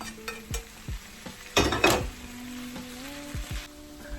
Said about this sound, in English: I'm going to turn that heat off and add the tofu to the veggies